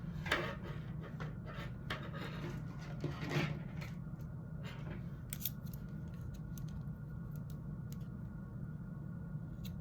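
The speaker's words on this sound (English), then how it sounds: "So I'm just going to cut my yarn to complete my first strap." Scissors snipping through crochet yarn: a few quick, close cuts near the start, then quieter rustling and handling of the yarn against a steady low room hum, with no talking.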